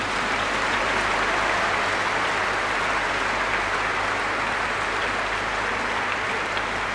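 Sustained, dense clapping from a large church congregation at a Chrism Mass in Abuja carries on evenly throughout, with a low steady hum beneath it.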